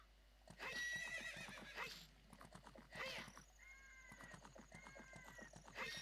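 Horse neighs and whinnies with clip-clopping hooves in Ocarina of Time on the Nintendo 3DS, a loud whinny at the start followed by repeated neighs and steady hoofbeats, alone without talk.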